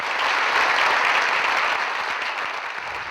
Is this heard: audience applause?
yes